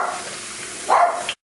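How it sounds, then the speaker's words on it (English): A dog gives a single short bark in the background, loud and abrupt, over steady kitchen sizzle from frying potato chips. "don't mind my dog in the background barking"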